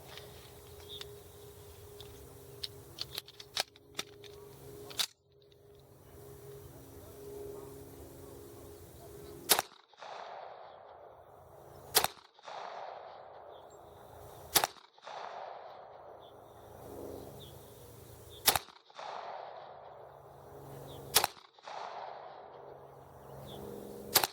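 Colt Combat Unit 1911 pistol firing at an outdoor range, with loud sharp reports spaced several seconds apart after a stretch of clinking and handling noise, each shot standing out clearly.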